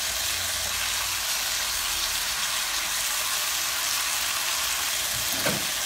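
Capers sizzling in a hot skillet for a frittata, a steady, hissing fry with a soft thud near the end.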